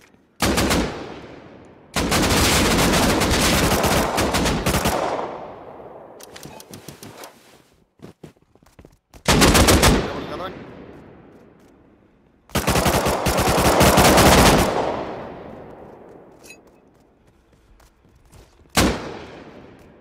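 Automatic AK rifle fire in the online survival game Rust, loud sustained bursts of rapid shots separated by short pauses, with several shorter bursts and single cracks in between and no talking.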